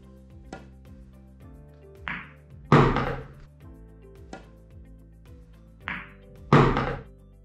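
Pool cue ball rolled with maximum left spin into the 5-ball on a billiard table: twice, a lighter tap is quickly followed by a louder, close clack, with a few faint ticks in between and no talking.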